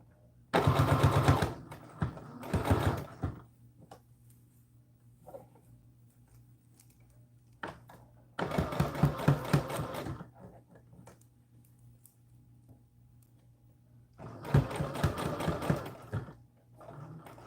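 A sewing machine stitching a seam around a neckline runs in three bursts of rapid, buzzing needle strokes, each lasting a second or two, with quiet pauses between them.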